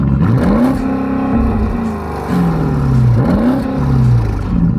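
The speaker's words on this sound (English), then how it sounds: "put the car into neutral and the ESP off and then rev it" A Porsche Cayenne Turbo GT engine revs in neutral, with three loud blips that each rise quickly and then fall back before the next, heard close up.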